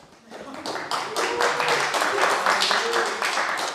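An audience breaks into applause before a talk begins, the clapping starting softly and swelling into a dense, steady round of many hands, with a few indistinct voices underneath.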